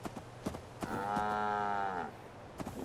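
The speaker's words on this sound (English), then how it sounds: "Stupid cow." A cow in Fallout 4 gives one long, loud, drawn-out moo that swells and fades, with scattered game sounds before and after it.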